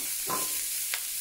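Corn kernels tipped into a frying pan of hot oil give a brief sizzling burst followed by a second short crackle, close and fairly quiet.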